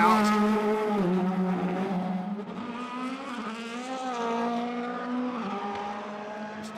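A DTM race car at Hockenheim blasts out of the pits after a tyre change, its engine note loud and close, rising through the gears with smooth upward sweeps and shifts.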